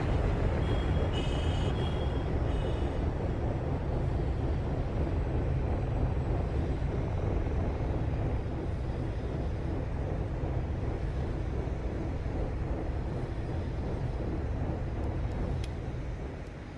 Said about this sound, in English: some afterburner going here